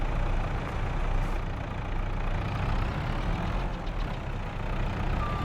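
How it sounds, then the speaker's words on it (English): A tractor engine in Farming Simulator 22 runs steadily at idle, a constant low rumbling drone with no change in pace or loudness and no talking. "I want to make sure my tractor's running"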